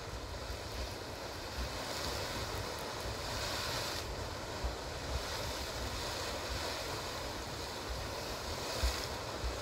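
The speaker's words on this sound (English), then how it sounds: "Hopefully you were able to hear some of that sputtering and gurgling of the water." Water sputters and gurgles in a backcountry geothermal feature in Yellowstone, a steady, dense wash of churning, bubbling sound heard alone, with faint wind and no voices.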